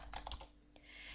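Typing on a computer keyboard during a text-based online game, a quick burst of soft key clicks followed by a brief pause and a final tap, close and quiet against a low hum.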